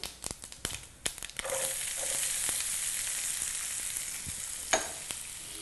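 Chopped onions hit hot oil already crackling with mustard and cumin seeds for mutton korma; after a few clattering knocks, a steady close sizzle sets in and holds, with one sharp pop near the end.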